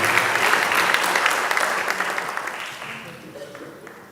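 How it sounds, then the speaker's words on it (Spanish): A congregation at a Sunday church service breaks into dense, enthusiastic applause with a few louder claps in it, gradually softening over the last seconds. "Den un aplauso a Dios, por favor."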